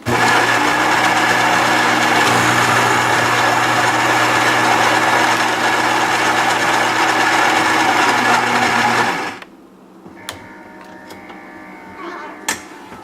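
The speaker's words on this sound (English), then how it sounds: "Put my cup right in front of there and brew a shot of espresso" A Gaggia Brera super automatic espresso machine brews a shot with a loud steady pump drone and mechanical hum that stops abruptly, leaving faint clicks and drips in a quiet room.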